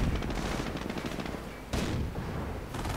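Dense gunfire rattles through a WWII strategy video game battle, rapid machine-gun bursts and rifle shots overlapping in a loud, continuous fusillade with a sharp fresh burst near the end, no speech.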